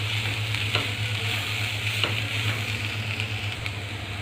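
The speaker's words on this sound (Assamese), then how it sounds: "সখীসকল, চব্জিখিনি মাজে মাজে লৰাই থাকিব।" Cabbage and coconut frying in a wok while being stirred, a steady close sizzle with a few light scraping knocks from the spatula, no voices.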